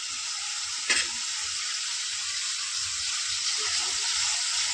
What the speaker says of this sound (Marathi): टोमॅटो परतून होत आहेत आपले.